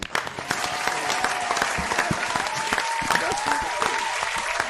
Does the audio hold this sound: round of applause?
yes